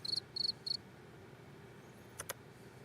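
Three short, bright cricket chirps in quick succession early on, then two faint clicks later over low background hum; quiet and fairly close, with no talking.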